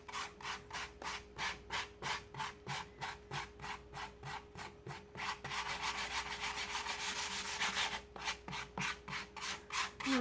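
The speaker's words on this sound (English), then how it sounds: "what I want to do is just sand it down a little bit because I don't want it to be perfect" Wood is hand-sanded for a distressed finish in a close, steady back-and-forth rhythm of rasping strokes, briefly quickening midway, with no voices.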